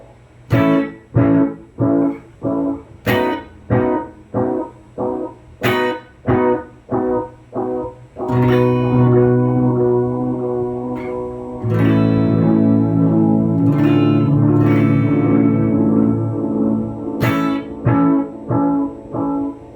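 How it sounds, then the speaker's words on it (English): Electric guitar is strummed hard through a PT2399-based pedal in a steady rhythm of sharp chords, then chords ring out sustained with a gritty, mildly distorted edge; no voices. "when you really strum it hard, you get distortion"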